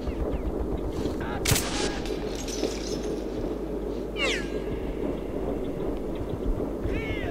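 Gunfire from the post-apocalyptic shooter Metro 2033, a few sharp shots and bursts standing out over dense, continuous game ambience and rumble, with brief clattering transients scattered through.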